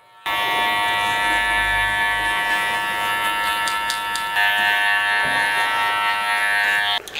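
Barber's hair clippers from a BARBERS set with a super motor buzz steadily and close, a constant high electric hum holding throughout with slight shifts in pitch as they work.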